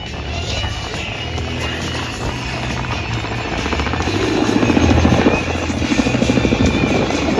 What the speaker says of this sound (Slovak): Počujeme fantastický zvuk čistého rotora, ktorý odovzdáva výkon 2 motorov Klimov na rotujúcu nosnú plochu.